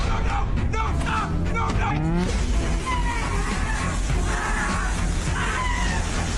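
A man cries out in anguished, wavering yells at a workplace after being caught by a closing hatch, over a constant mechanical background din, the screams rising and breaking before giving way to continued noise.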